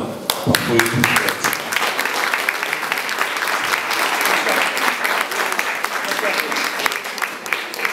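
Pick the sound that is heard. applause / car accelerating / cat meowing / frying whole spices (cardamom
applause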